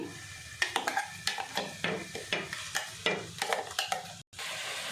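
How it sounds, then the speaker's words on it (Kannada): Ground masala being stirred into cauliflower cooking in a pan, giving a regular series of close scraping strokes over a soft sizzle, about a dozen in a few seconds. "ಈಗ ರುಬ್ಬಿರೋ ಮಸಾಲೆನ ಹಾಕ್ತಾಯಿದ್ದೀನಿ."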